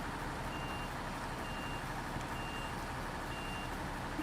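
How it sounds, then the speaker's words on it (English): A truck in an off-road driving video game sounds its reversing alarm, four evenly spaced high beeps over a steady loud engine drone, with no voices. "we're still backing up"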